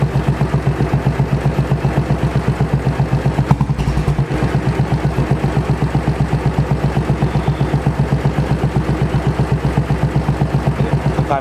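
A Royal Enfield 500 EFI single-cylinder motorcycle engine idles steadily with a close, even, rapid thumping beat while its idle speed is adjusted, and a brief clunk breaks in near the middle.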